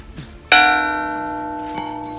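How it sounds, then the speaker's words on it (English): An old village school bell in Africa is struck once with a loud, bright clang that rings and slowly decays, followed by a second, lighter strike near the end. "Yeah, so that's the bell for school."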